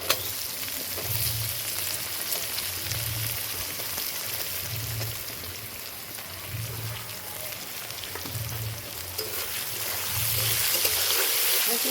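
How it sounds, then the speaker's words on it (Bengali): Onion fries in mustard oil with garlic for a mutton kosha, a continuous rain-like sizzle growing a little louder toward the end, with a low, muffled rhythmic thumping underneath. "এবার দিয়ে দেবো পেঁয়াজ।"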